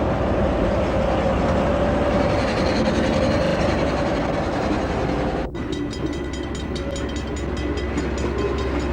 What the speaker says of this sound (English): train G82, comprising only a locomotive and guards van, now crosses State Highway 1, heading towards the Waitaki Valley